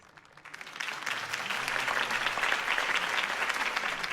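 Crowd applause swells after a campaign speech for Harvey Dent in the Batman Telltale game, starting quietly then rising into dense, sustained clapping from many hands that continues steadily throughout.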